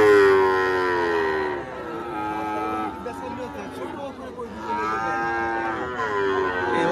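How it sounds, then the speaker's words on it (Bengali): Heifer calves moo repeatedly and loudly, close by, at a busy cattle market in Tepakhola, Faridpur; the calls are long and drawn out, with crowd chatter and voices underneath. "এইখানে যা আছে সবই বকনা বাছুর।"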